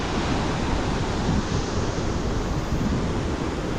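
A Lao waterfall roars in a dense, steady broadband rush, loud and continuous with no breaks and no voices.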